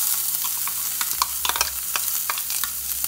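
Onion frying in a pan of rendered chorizo fat, a close sizzle with sharp crackles and pops and utensil scrapes scattered through, no voices.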